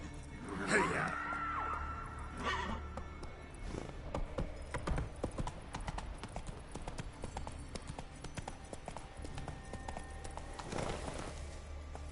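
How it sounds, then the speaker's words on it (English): Galloping hooves of a horse in The Witcher 3: Wild Hunt, a steady clip-clop rhythm throughout with a brief whinny or snort near the start, mixed with game ambience. "Come on, Roach."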